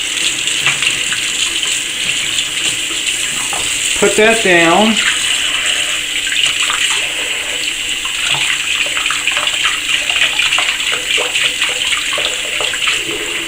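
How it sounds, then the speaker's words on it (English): Lukewarm water runs steadily from a tap in a home, a constant close hiss and splash throughout, while a voice briefly speaks over it near the middle. "I'm just going to get some lukewarm water."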